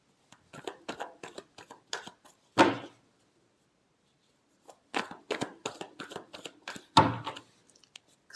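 Tarot cards being shuffled by hand, a series of quick soft riffling and tapping bursts with sharper slaps as the deck is squared, close and clear with quiet pauses between rounds.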